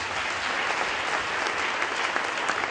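A church congregation breaking into applause, dense continuous clapping from a large crowd, loud and even throughout the moment with no voices standing out.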